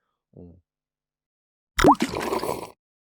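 Tea pours briefly into a cup: a short gurgling splash that trickles on for under a second, close and fairly loud, after a brief murmur.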